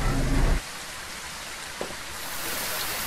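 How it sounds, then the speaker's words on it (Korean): Steady rainfall in the horror game Phasmophobia, a dense, even hiss of drops on surfaces that carries on through the whole stretch after a brief louder burst at the start, with no talk over it. "비 오는데요."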